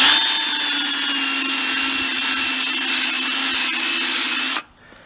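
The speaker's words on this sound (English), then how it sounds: "what I'm going to use is a ball attachment, stone, on a drill" Power drill spinning a ball-shaped stone grinding attachment against a car wheel, a loud steady high whine for several seconds that cuts off abruptly near the end.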